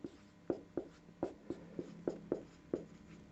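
A maths solution for a triangle geometry exercise is written out in about ten quick, evenly spaced strokes, soft scratchy taps up close in a quiet room, with no talking.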